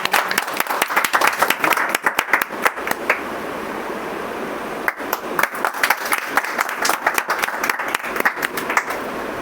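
A congregation at a prayer hall applauds loudly and close by in uneven bursts of many hands, with a brief lull midway before the clapping surges again.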